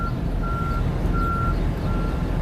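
A Freightliner truck backing up gives four evenly spaced reversing beeps, clear and steady over a constant low engine rumble, with no voices.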